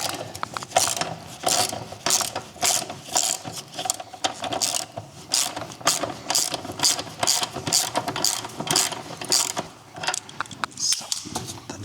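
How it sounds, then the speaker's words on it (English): A 17mm spanner works a nut loose on Royal Enfield Meteor 350 suspension, giving close, rapid bursts of ratcheting clicks in a steady back-and-forth rhythm with brief pauses between strokes. "For the top you need a 17mm spanner for the nut on the back side."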